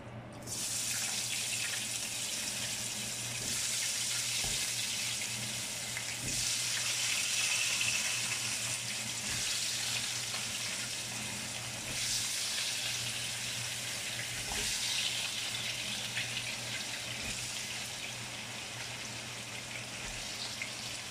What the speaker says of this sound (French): L'huile est prête, donc je vais commencer par mettre les pommes de terre.